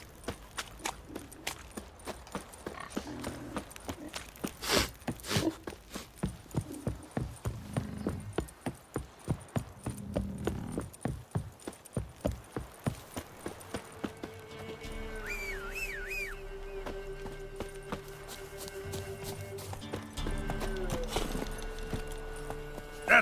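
Roach, a horse in The Witcher 3, clip-clops in a steady walking rhythm of hoof strikes on hard ground, fairly close and clear, before the hooves fade under sustained game music and ambient tones.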